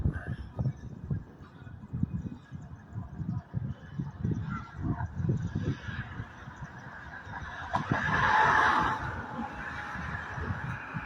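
A goose honks repeatedly outdoors at night near a city library, its calls rising over a steady noisy background and growing loudest for a moment near the end.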